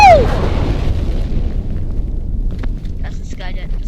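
A TNT blast in the FireworksMania game opens with a sharp falling whistle and a deep roaring boom, and the rumble fades slowly while crackling pops come in near the end.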